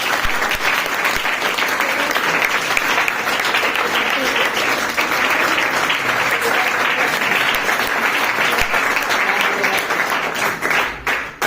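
A packed hall applauds students honoured at a scholarship felicitation, the clapping dense and sustained for about eleven seconds before thinning into a few scattered claps at the end.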